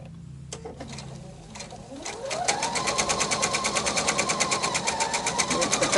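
Sewing machine stitching a quilted table topper, starting slowly then running at a steady fast rhythmic clatter with a rising motor whine, close and clear with no talking.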